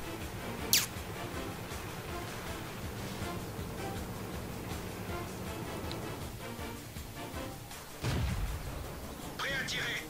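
A single sharp tank cannon shot goes off early in the video game World of Tanks, followed by a low, steady engine rumble and a deeper boom-like swell near the end.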